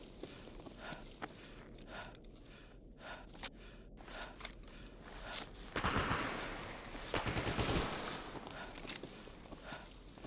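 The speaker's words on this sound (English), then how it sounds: "Am I getting shot from the tower?" Gunfire rings out in modded STALKER Anomaly, with scattered single shots and short bursts, some distant, then a louder close flurry of shots in the latter half, while someone speaks faintly at times.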